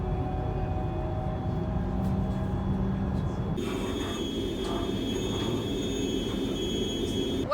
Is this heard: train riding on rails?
yes